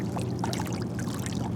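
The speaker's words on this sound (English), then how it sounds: "let's see if we shake it back and forth, that tail does go back and forth in the water" A 2021 Ocean Protector Mosasaurus toy is shaken so its tail sloshes back and forth in water, giving a continuous close splashing and pouring wash with no talking.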